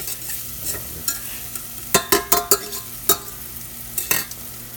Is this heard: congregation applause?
no